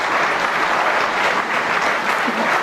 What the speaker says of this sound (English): He's clapping on the other band.